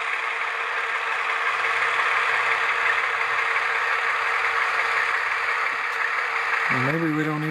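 An HO scale Rapido RS18u model diesel locomotive with LokSound idles as a steady, low mechanical drone, fairly quiet and even, with a brief rising tone near the end.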